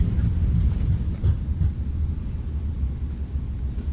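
Heavy low roar and rumble of an Airbus A320neo in a flight simulator, thrust reversers deployed and brakes at maximum on landing, a steady loud rush throughout with no talk.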